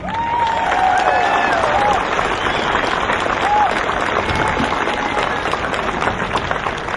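Sustained audience applause at a Child Protection League rally welcoming a speaker, a dense, steady wash of clapping from a crowd that holds throughout, with a few faint cheers.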